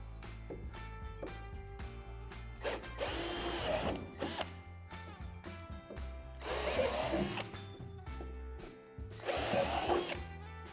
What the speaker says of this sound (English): Locate these 3 divots at the top of the slide and drill them out with a 3/8 drill bit.